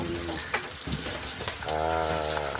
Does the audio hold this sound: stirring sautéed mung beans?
yes